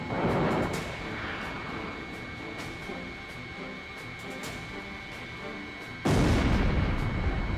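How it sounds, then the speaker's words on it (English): An anti-ship missile launch in the Ace Combat Zero flight game, heard as a continuous roaring rush over engine noise, with a sudden louder blast of launch roar near the end. "Radar lock. Anti-ship missile launched."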